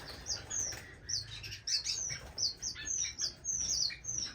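Waxbill finches around a new nest in a bird room, giving a run of high, thin chirps in quick repeated bursts, fairly close and clear over a quiet background.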